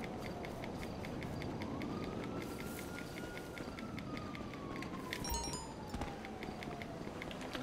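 Police car sirens in the GTA Online video game, a faint wailing tone rising and falling over a dense, noisy game soundscape with scattered clicks and thuds.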